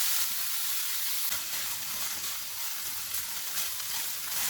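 Beef keema with ginger garlic paste fries in hot oil over medium heat, giving a steady, bright sizzle close to the pan that holds even and unbroken throughout, with no voices.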